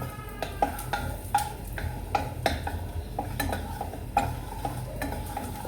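A utensil stirs garlic in butter in a pan, scraping and clinking against the metal in a steady rhythm over a soft sizzle, close and moderately loud.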